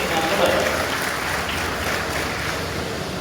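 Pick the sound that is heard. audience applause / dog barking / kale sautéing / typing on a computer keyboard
audience applause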